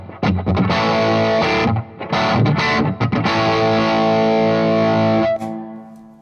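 Electric guitar through a Mojo overdrive pedal, loud and close, with crunchy distorted strummed chords and short breaks, ending on a long sustained chord that rings out and then cuts off.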